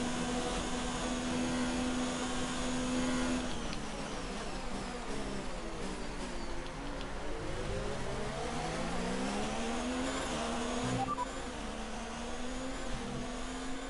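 Formula One race car engine in an F1 career-mode video game at Bahrain, a loud, steady high-pitched whine that sweeps up and down through gear changes for the whole stretch, with no talking.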